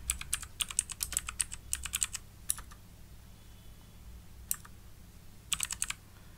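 Keys clatter on a computer keyboard in quick bursts of close, crisp typing, broken by a pause of a couple of seconds before a final short flurry, with no talking.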